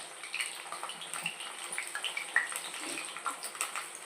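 Garlic and mustard seeds sizzling in hot oil for a tempering, a continuous close hiss with small irregular crackles and pops throughout.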